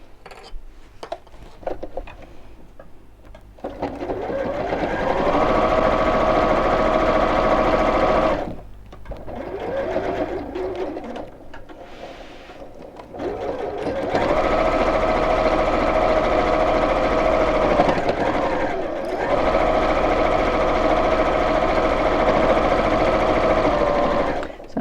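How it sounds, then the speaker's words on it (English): A sewing machine stitches around the edge of a fabric pot holder, running in two long whirring bursts near the mic, split by a pause with light handling clicks and shuffling of fabric and clips. "I'm going to sew from the end, just move those out of the way, all the way around and join back up with it here"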